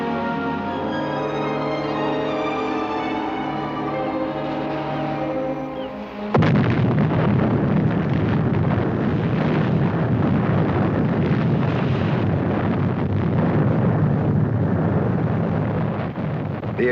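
A submarine rigged with explosives blows up in a TV drama: a sudden, loud, deep blast cuts in after a tonal passage, then a long roaring rumble that stays heavy and sustained.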